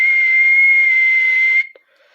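A human whistle imitates a manatee calf calling to its mother: one steady, sustained high tone held for about a second and a half, loud and close, then cut off abruptly.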